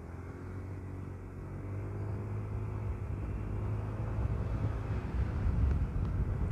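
A Honda Click 125 V3 scooter rides along a road, its engine a steady low drone mixed with wind rush on the microphone, gradually growing louder and rougher toward the end.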